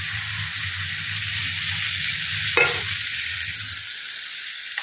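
Vermicelli fried in refined oil as water goes into the pan, a loud hissing sizzle with steady stirring that jumps into a sharp burst of spitting steam midway, then settles to a broad hiss, close and without talk.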